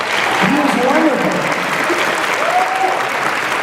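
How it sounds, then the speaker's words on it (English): A convention panel audience at Phoenix Comicon 2013's Star Trek Continues session claps in loud, dense, sustained applause lasting several seconds, with voices mixed into the crowd noise. "Please give a round of applause to Wyatt Lenhart, who played Chekhov."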